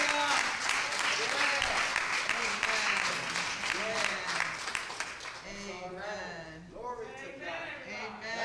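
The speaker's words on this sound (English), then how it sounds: "If you believe that, give the Lord a hand clap of praise." A church congregation gives a sustained round of applause as praise, steady mixed clapping with voices rising over it, then fading as singing or speech takes over.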